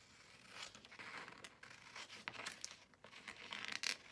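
Quiet, close paper sounds come as a page is cut from a book to make an altered book, with scissors crunching and paper crinkling in a steady run of small snips and rustles.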